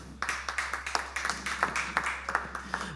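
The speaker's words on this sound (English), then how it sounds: "Give yourselves a round of applause." A small convention audience at the Frannz Club claps steadily for a few seconds, brisk and fairly close, over a low constant hum.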